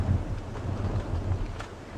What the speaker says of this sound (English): It's very, very windy where we are right now